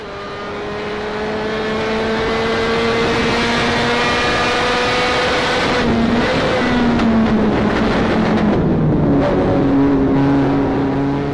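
Onboard engine of driver Martínez's car in a monomarca race, loud and continuous, revving up and down through gear changes with a steady harmonic whine that drops in pitch near the end.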